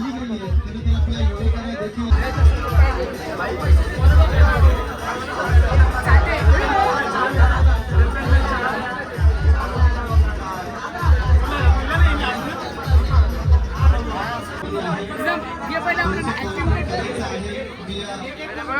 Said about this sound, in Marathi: गर्दी बघा मित्रांनो.